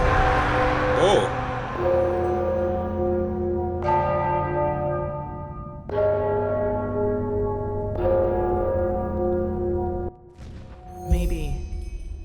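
Church bells ring in the video game Enderal, with several heavy strikes about two seconds apart, each leaving a long, shimmering decay under a steady ambient backdrop.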